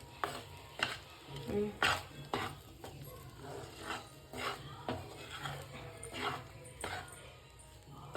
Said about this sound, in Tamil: சோறு மொத்தமாக கிண்டி எடுத்துக்கிட்டு